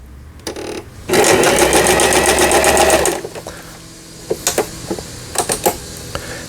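A Janome Lion 2041 sewing machine runs in reverse for about two seconds, a steady dense whir of stitching, then stops and is followed by scattered small clicks and taps.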